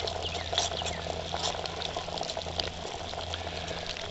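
A quart of water at a raging boil in a 40 oz stainless steel bottle over a small stick fire, steady bubbling and popping with a low rumble, fairly quiet and continuous, no talk.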